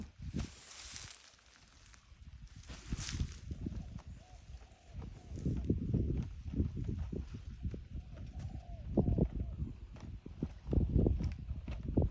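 A horse walks through countryside fields with its hooves clip-clopping in a steady, uneven rhythm, sometimes close and heavy, heard alongside people talking.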